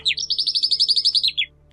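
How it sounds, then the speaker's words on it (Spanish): A calandria bird sings a single fast, rhythmic run of bright chirping notes, loud and close, in a quiet setting. "Así nació la calandria, el pájaro de canto melodioso"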